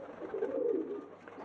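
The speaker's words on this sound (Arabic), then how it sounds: "كان الفيديو بتاعنا النهارده عن حمام النش وانواع حمام النش" Egyptian Nash pigeons give a soft, close, rolling coo that swells and fades once, heard alone without talk.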